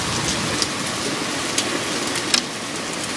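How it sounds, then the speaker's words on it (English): Hail falling in a hailstorm in Ottawa, a dense continuous hiss of pellets striking the ground and nearby surfaces, with a few sharper individual impacts standing out. "Look at all the hail."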